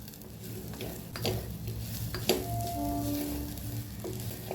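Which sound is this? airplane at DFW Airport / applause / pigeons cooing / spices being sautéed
spices being sautéed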